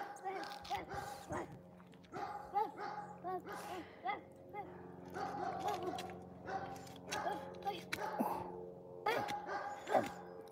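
A young girl imitates a dog with repeated yipping barks and whimpers, the bursts coming close and quick over ongoing speech.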